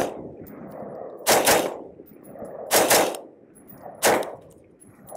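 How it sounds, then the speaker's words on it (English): A rifle fitted with a Timney DH3 trigger fires in repeated sharp, loud cracks, three evenly spaced bursts with quieter handling noise between them. "So I'll do a double shot."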